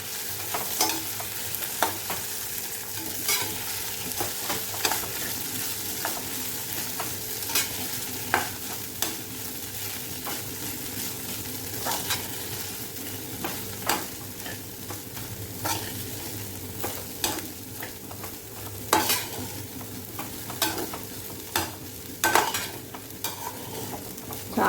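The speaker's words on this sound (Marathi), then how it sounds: "पोहे असे चांगले परतून घ्यायचे" Flattened rice (poha) is stir-fried in a pan, making a soft continuous sizzle broken by frequent scraping and tapping of a spatula against the pan, with no talking.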